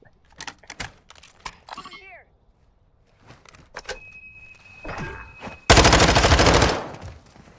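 A shotgun fires in a Modern Warfare match: one loud, sharp close blast near the end, after sparse footsteps, clicks and a brief voice.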